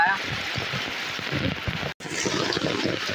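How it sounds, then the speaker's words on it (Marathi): Steady rain falls on a rural Konkan village, a dense, even hiss running throughout with a brief dropout, while someone talks over it. "आता पाऊस चालू आहे"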